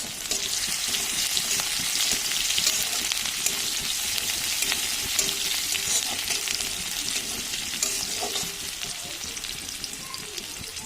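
Chopped onion hitting hot oil already holding whole spices—dried red chillies, cumin, garam masala and a bay leaf—sizzling steadily with a bright, crackling fry and occasional stirring scrapes, close and continuous without talk.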